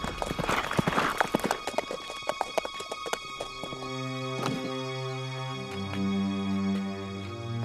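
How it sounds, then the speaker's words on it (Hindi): A horse's hooves clip-clop at a brisk, uneven pace in a historical Indian drama, loud and close at first, then giving way to a steady sustained tone and music-like sounds. "ये तो श्रीमंत साहब का घोड़ा है"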